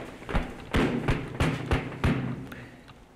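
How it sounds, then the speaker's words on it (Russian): Loud knocking on an apartment door: a run of five or six heavy, evenly spaced thuds close by, with a brief pause partway through, against a quiet room background. "На громкий стук хозяева квартиры дверь не открыли"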